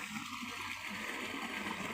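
Steady rush of rainwater flowing out of a waterlogged pigeon pea field, constant and fairly close, with a faint gurgling texture and no voices.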